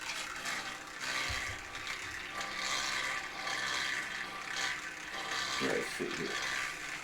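Stirrer spinning tissue culture media in a home lab setup, a steady whirring, slightly rattling mechanical hum with faint watery churning throughout, with brief speech near the end.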